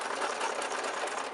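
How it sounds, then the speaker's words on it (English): A slightly wobbly sewing machine stitches through paper garland pieces with a fast, steady mechanical whirring and rattle, close and continuous, without speech. "my sewing machine's a little wobbly"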